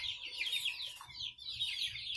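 Índio Gigante hens clucking and giving short, rising calls in quick runs, close by and fairly soft, with no talk.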